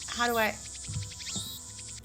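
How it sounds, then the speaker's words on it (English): Cicadas chirp in the Steins;Gate visual novel, a steady high buzzing drone that carries on throughout, with a few short tonal sounds and faint voices mixed in beneath it. "we endured enough cicadas."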